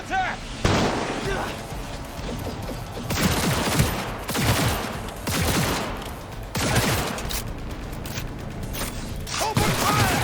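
Gunfire in the video game Cyberpunk 2077, loud repeated bursts of shots and blasts in several clustered volleys with short gaps, while voices shout over the firefight.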